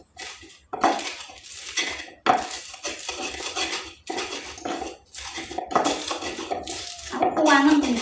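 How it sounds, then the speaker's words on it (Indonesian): Ingredients for sayur asem, including tamarind and galangal, ground with a stone mortar and pestle (ulek), repeated bursts of scraping and knocking, close and fairly loud. "Kita ulek dulu pemirsa."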